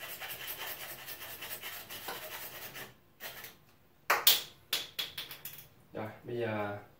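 A plastic water pipe being cut with a hand saw, giving a series of rasping back-and-forth strokes, with voices talking over and between the strokes nearby.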